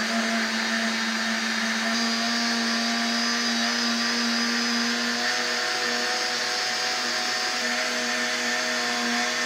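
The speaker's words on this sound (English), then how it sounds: "So I'm going to put it on my blender and blend it." A blender whirs continuously at high speed blending pumpkin seeds, a loud steady motor whine with a gritty buzz that holds without a break.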